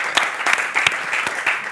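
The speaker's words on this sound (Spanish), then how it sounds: "Un aplauso para Esperanza" Studio audience at a Spanish talk show clapping for a guest, a steady crackle of many hands with a few sharper, closer claps standing out, under two seconds, no voices over it.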